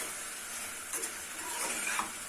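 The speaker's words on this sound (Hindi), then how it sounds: "साथ साथ चिकन को भून लेते हैं" Chicken and liver browning in a pan, a soft continuous sizzle with light stirring scrapes and occasional clinks, faint and close, with no talking.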